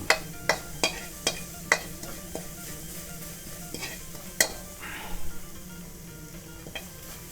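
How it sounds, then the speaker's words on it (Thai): A utensil scrapes and taps rhythmically in a pan as curry paste is stir-fried for a Thai pork rib and papaya curry, with a soft sizzle underneath, close and moderately loud. "แล้วก็คั่ว คั่วให้เครื่องแกงเขา หอมๆก่อนนะครับ"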